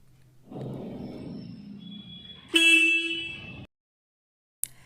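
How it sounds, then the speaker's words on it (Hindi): A Royal Enfield Hunter 350 motorcycle engine idles with a low rumble, then a single bright horn blast sounds for about a second, followed by silence and a brief click. "ये रही हॉर्न"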